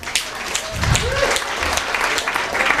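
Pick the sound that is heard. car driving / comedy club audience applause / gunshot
comedy club audience applause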